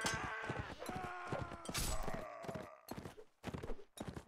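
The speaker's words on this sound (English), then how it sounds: "Having that fast horse really helps." Horse hooves galloping in the medieval combat video game Mount & Blade Warband, rapid rhythmic clip-clop beats mixed with clashing game effects, with a voice talking.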